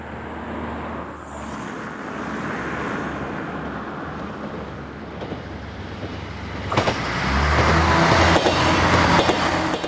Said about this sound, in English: Today, many passenger services to and from Strasbourg are operated by these new Class X73-500 diesel units